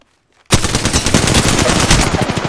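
Automatic gunfire in the battle royale game Apex Legends bursts in after a brief silence, a loud, dense, continuous rattle of rapid shots running steadily to the end, close and unbroken by speech.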